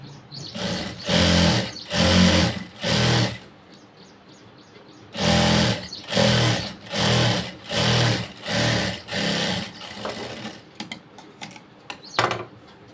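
A sewing machine sews a top stitch on blouse cloth in a series of loud, close, evenly spaced bursts, a group of four, a pause, then six more, ending with light clicks.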